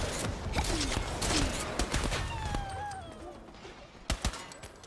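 Rapid gunfire from a weapon in a casual shooter game, dense bursts of shots rattling over background game noise, with a couple of sharp louder shots near the end.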